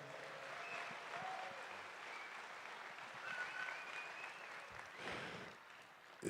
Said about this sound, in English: If you guys would clap, that'd be great.